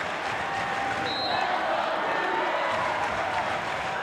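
Crowd cheering and applauding at a college volleyball match between Hawai'i and BYU, a steady, fairly loud roar of clapping and voices filling the arena.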